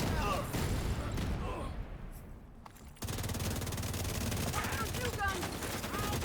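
Rockets launched in a video game, heard as dense bursts of explosive firing and rumbling impacts, with a brief lull before a second loud barrage over continuous game noise.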